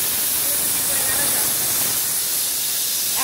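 A pressure cooker whistling and releasing steam while radish boils, a loud steady hiss that holds for the whole stretch without a break.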